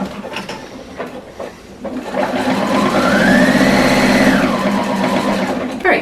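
A sewing machine stitches along the edge of a pant cuff with a fast, steady mechanical whir that runs for several seconds, close and loud, after a few quieter handling noises.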